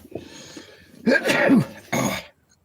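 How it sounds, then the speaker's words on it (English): A person sneezes twice in quick succession, a short wind-up followed by a loud, close burst and then a second sharp burst, before the room goes quiet. "I'm sorry, I'm going to sneeze"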